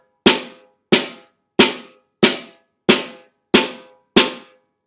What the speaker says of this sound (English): almost a double paradiddle.